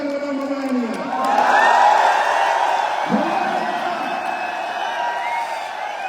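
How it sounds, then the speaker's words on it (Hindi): A large crowd at an Asclepius Wellness function swells into cheering and shouting, loud and sustained for several seconds, with a voice carrying over the noise. "तो जोर से ताली बजा के हल्ला मचा के बताओ, मजा आया नहीं आया?"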